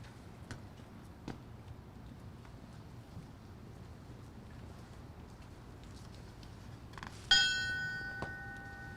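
A single bell strike rings out clearly near the end of a quiet stretch at a fallen firefighter memorial ceremony in Edmonton, its tone lingering and decaying over faint ambient outdoor noise.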